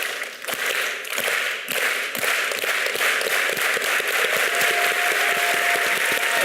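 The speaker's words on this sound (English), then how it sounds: "Clap. It starts out slow and it ends fast." An audience at a distinguished lecture claps together in rhythm, the claps starting slow and evenly spaced and then speeding up into a fast, dense patter by the end.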